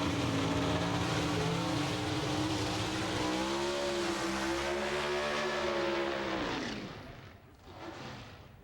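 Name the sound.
Pro Stock drag race cars racing down the strip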